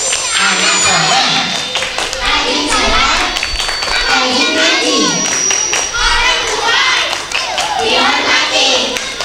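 Children at an Isra Mi'raj school gathering clap hands in a rhythmic chant, steady loud patterns of claps mixed with young voices and crowd chatter throughout.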